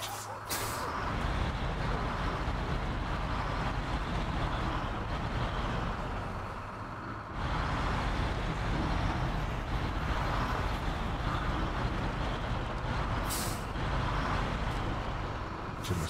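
A heavy truck in SnowRunner idles while hooking up a trailer in wet, muddy terrain, its low engine rumble droning steadily with short, sharp bursts of air-brake hiss near the start and end.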